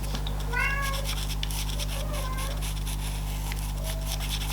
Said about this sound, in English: Banging on the door slightly and meowing.